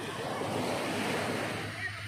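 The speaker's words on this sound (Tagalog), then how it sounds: "Sa mga province, kami diri sa dagat." Sea waves wash onto a provincial beach in a steady, continuous surge mixed with wind noise, fairly close and even in level throughout, with no clear voices.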